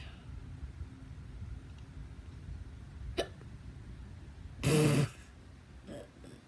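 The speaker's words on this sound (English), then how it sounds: "I have the hiccups and they're not very good" Hiccups from one person indoors: a short sharp catch, then a louder, longer hiccup about a second and a half later, and a faint third one near the end, each separated by quiet room tone.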